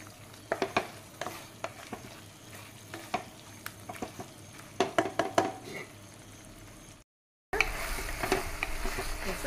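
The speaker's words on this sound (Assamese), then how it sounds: "এনেকৈ 15 মিনিটমান সময় ভাজিব লাগিব।" Chicken fries in a pan while a utensil stirs it, giving repeated close scraping clicks over a steady sizzle; after a brief dropout the sizzling returns louder and denser.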